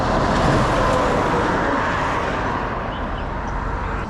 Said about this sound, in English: But like I said before, a tremendous amount of traffic